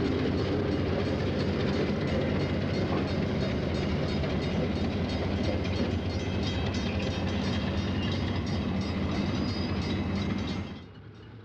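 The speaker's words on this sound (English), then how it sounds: "On the tracks for the suburban branch, the train of old equipment prepares to return to the coach yard in Blue Island." An old passenger train of vintage cars rolls steadily along suburban branch tracks toward the Blue Island coach yard, a loud continuous rumble of wheels and cars heard up close with no talk, cutting off abruptly near the end.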